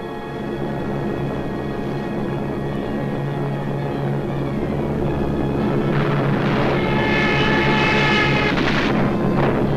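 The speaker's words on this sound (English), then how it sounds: "So the Germans brought up their bombers." German bomber aircraft flying overhead in wartime footage, a steady loud droning engine roar that swells slightly toward the end, with no talk.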